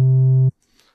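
A Discovery Synth oscillator set to a triangle waveform holds a steady, pure-sounding tone for half a second, then cuts off abruptly into near silence.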